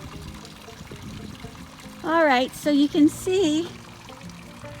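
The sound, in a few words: water pouring from the teepee fountain at a hot springs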